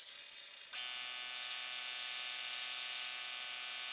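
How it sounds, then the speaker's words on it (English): A Langmuir Systems Crossfire Pro CNC plasma cutter cuts quarter- and half-inch plate steel, a steady, fairly quiet hiss with a constant electrical whine that starts under a second in and keeps going. "I'm going to go over to the Langmuir Systems Crossfire Pro, and we're going to cut out all of the plate steel"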